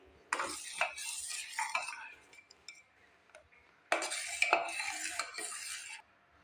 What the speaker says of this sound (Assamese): 1 মিনিট সময় এইদৰে মই লৰাই থাকিম।